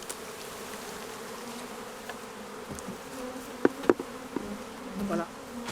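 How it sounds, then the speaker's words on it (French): Bees buzzing around wooden nest boxes in a forest, a steady faint insect hum with a few closer, louder passes standing out briefly, no voices. "ce sont les abeilles qui sont venues s'installer."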